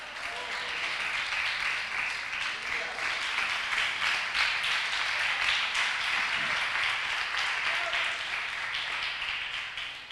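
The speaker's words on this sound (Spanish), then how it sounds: "le demos un fuerte aplauso a la palabra" A church congregation breaks into sustained, dense applause, steady and loud throughout, many hands clapping together in a large room.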